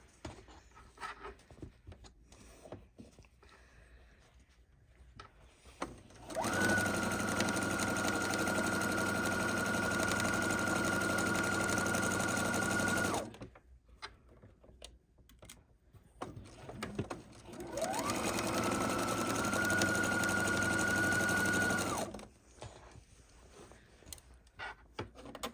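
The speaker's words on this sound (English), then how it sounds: "we're starting on our final edge to sew the entire quilt top" A sewing machine runs in two long, steady stitching passes along the final edge of a patchwork quilt top, a close, even motor hum and needle clatter separated by a short pause and quiet handling.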